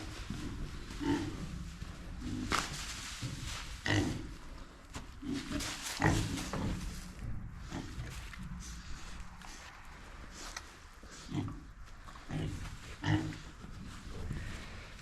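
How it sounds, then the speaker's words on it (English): Show pigs moving about in their pens, grunting and snorting at close range amid shuffling footsteps and rustling, with no talk over the sounds. "So here, I'll show you the pigs."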